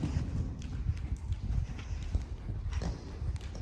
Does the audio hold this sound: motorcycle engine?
no